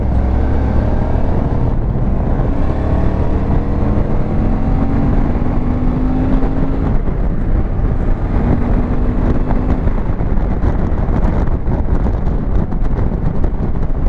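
Suzuki V-Strom 650 motorcycle engine pulling hard while riding, steady loud drone with rising tones as revs climb toward high rpm, buried under constant rushing wind buffeting the microphone.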